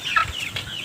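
Free-range village chickens on a small farm, a short burst of soft clucking at moderate distance over quiet background.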